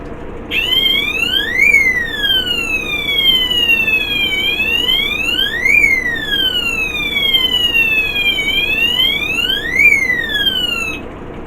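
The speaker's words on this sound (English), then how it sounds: "so that's one of the alarms that I have" Fish tank water-level alarm sounding a loud, continuous electronic wailing siren that sweeps up and down in slow repeating cycles, with no speech over it.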